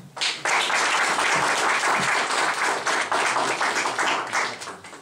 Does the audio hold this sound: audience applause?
yes